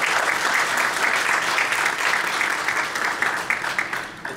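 Audience applause welcoming a speaker at a talk on volunteer culture, a dense, steady roar of many hands clapping throughout, close and loud, thinning slightly toward the end.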